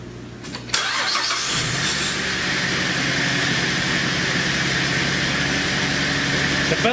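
A 2007 Saturn Outlook engine cranks briefly and catches, then settles into a steady, even idle that continues nearby at moderate level after an alternator replacement.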